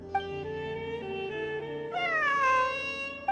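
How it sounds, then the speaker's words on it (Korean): A cat meows several times in the Genshin Impact video game, with drawn-out, tonal cries that rise and fall, one long call followed by a brighter, louder meow near the end, clear and close with no talking. "환청이 아니야. 진짜 고양이야."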